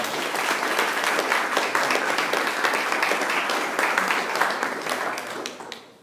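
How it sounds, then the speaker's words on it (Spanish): A church congregation applauds together in a steady, full round of clapping that holds for several seconds and then fades out at the end. "Démosle un aplauso a los hermanos que fueron a evangelizar"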